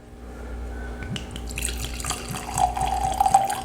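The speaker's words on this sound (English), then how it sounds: "Nice healthy little pour" Elijah Craig Barrel Proof whiskey pours into a glass nearby, a short trickling splash building over a few seconds, with faint clinks and no voices.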